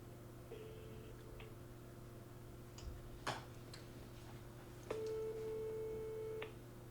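A phone call being placed, with a steady electronic ringback tone sounding in two long beeps separated by a pause, thin and fairly quiet over a low background hum and a faint click.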